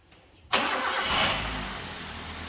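A used car's VVT-i engine cranks and catches with a sudden loud start, then settles into a steady, close idle rumble.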